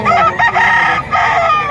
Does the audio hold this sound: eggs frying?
no